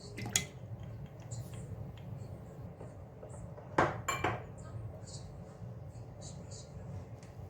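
Batter being mixed in a bowl: a few faint, sparse clinks of a utensil against the bowl over a quiet, low background hum.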